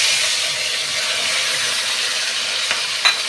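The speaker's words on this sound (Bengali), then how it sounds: "এই তেলের মধ্যেই এবার দিয়ে দেবো আমি আগে থেকে কেটে রাখা টমেটো কুচি আর পেঁয়াজ কুচি।" Chopped tomato and onion hit hot oil in a pan, giving a steady, loud broadband sizzle that holds throughout, with a couple of brief crackling pops near the end.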